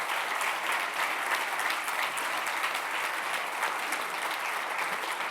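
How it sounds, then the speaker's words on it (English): A conference audience gives the organiser a warm round of applause at a closing session, with sustained, even clapping from many hands throughout, moderately close and without speech. "I'd really like you to give her a warm round of applause for her work on this."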